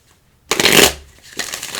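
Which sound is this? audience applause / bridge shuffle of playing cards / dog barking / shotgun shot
bridge shuffle of playing cards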